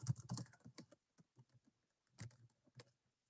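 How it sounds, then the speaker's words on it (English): Rapid bursts of computer keyboard typing during an online video call, close and quiet, with irregular clusters of keystrokes separated by short pauses and no talking. "I'm gonna type that in the chat here."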